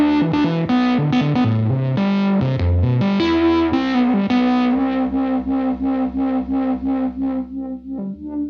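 A synth played through a Universal Audio Enigmatic amp sim pedal with noisy distortion: thick sustained chords first, then a run of repeated plucked notes pulsing steadily and fading, with a faint hiss underneath.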